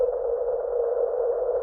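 Percussion from Hans Zimmer's Symphonic Elements PERRCS runs through a space station reverb preset, washed out into a steady, even ringing drone with no distinct hits.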